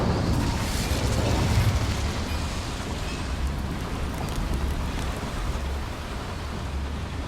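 Incendio fire spell cast in Hogwarts Legacy inside a mining cave: a dense, roaring whoosh of flame that holds steady and loud for about seven seconds with no pauses.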